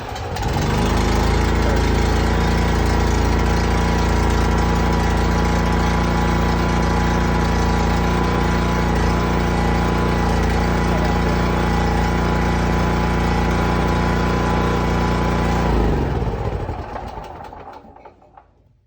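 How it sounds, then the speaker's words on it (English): A Champion generator converted to run on natural gas, and hard to start after the conversion, runs loud and close with a steady, buzzing small-engine drone for about sixteen seconds before cutting out and winding down to silence, with no talk. "See, it kind of wants to start, but it doesn't really pull. So let's try putting the hand choke on."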